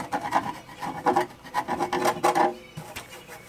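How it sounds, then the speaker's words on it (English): Old paint is scraped from a riveted jon boat with a flathead screwdriver, making a quick run of close, gritty rasping strokes in a steady rhythm before the sound stops, with no talking. "wherever there's just like surface scratches, I'm scratching off the old paint."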